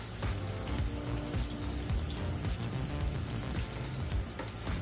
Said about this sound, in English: We're going to caramelize those onions while that steak cooks.